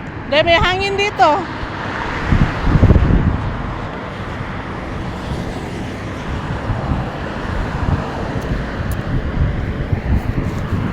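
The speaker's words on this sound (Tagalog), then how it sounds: "May hangin dito." Outdoors on a walk, wind blows in a steady low rumbling buffet across the microphone, with a voice speaking briefly at the start and occasional louder gusts.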